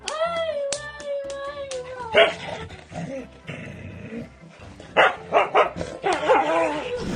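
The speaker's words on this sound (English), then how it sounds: "a devoted husky once again proves why dogs are man's best friend by staying fiercely protective of its owner" A husky barks and yelps in several loud, close bursts, with whining, tonal vocal sounds at the start and a rough, roaring quality in the later barks.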